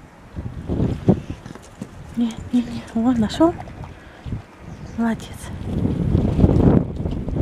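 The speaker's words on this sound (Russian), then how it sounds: "Ветер, ураган, пипец, холодно." Strong cold wind blows outdoors in southern Spain, buffeting the microphone with low rumbling gusts at the start and end while someone speaks over it.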